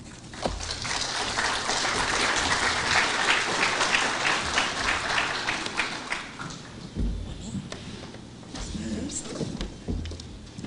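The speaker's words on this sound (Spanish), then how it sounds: "Por favor, aplausos." A seminar audience applauds to welcome a professor to the stage, a broad wash of clapping that swells then thins toward the end, with faint talk mixed in.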